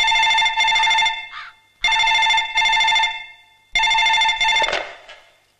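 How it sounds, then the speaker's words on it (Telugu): An old-style telephone bell rings loudly in three long bursts, each split into two trills, under a quiet office scene from a Telugu film. "నేను ఫోన్ చేస్తాగా."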